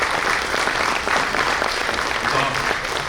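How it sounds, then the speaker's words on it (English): A room full of people at a police awards dinner applauds steadily, a dense wash of clapping that carries on evenly for several seconds. "Let's give him a round of applause,"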